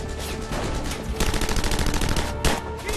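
Rapid bursts of machine-gun and rifle fire crackle steadily through a World War II battle reenactment, with a sharp louder crack near the end, loud and close throughout with no talk.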